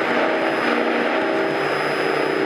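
Propeller airplane flying a training flight over the Santa Monica Mountains, heard from inside the cabin as a steady, loud engine drone with a constant buzzing hum throughout.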